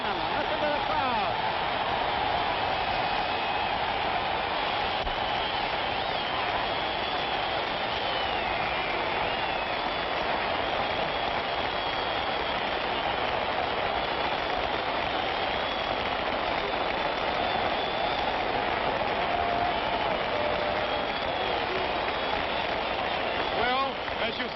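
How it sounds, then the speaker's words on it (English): Crowd at the Floyd Patterson versus George Chuvalo boxing match cheering in a continuous loud roar through the final moments, with a commentator's voice heard over it. "Listen to the crowd."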